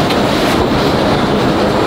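Steady rumble of a metro train ride in Russia, heard from inside the carriage, with continuous wheel-and-track noise and a low droning hum that holds evenly throughout.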